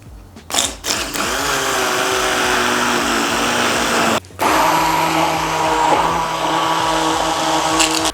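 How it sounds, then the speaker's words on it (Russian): A loud motorized whirring from an immersion blender puréeing chicken liver pâté runs almost continuously, cutting out briefly a few times before starting up again, with the pitch shifting slightly as it works. "Теперь мы будем все это перебивать обычным погруженным блендером."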